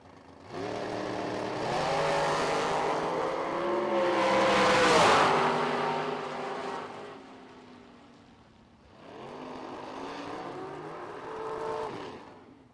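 Drag race cars launch and accelerate down the strip at a summer drag racing event. Two loud roaring passes rise and fade with shifting engine tones, and the sound carries through open air.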